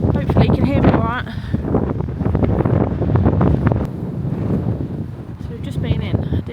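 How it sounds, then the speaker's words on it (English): Strong wind buffets the microphone outdoors in a windy coastal setting, a constant loud rumbling roar with a voice speaking over it. "Oh, the wind is whipping up."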